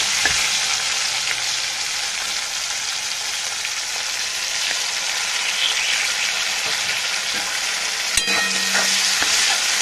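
Cumin paste sizzles and fries steadily in a hot pan, a loud continuous hiss with a few faint clinks of stirring near the end, with no voices.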